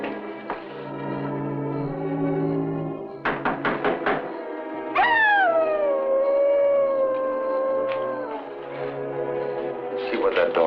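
A dog in the next yard lets out drawn-out howls that swoop down in pitch, mixed with knocking thuds and a few other sounds, moderately loud with no talk over it.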